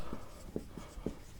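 Chalk or marker strokes on a classroom board during a maths lesson, several short scratchy marks in an uneven rhythm, close and clear with no talk.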